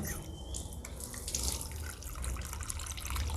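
Tap water running for wudu washing, a faint, continuous splashing trickle with soft drips that stays steady throughout, heard from a moderate distance.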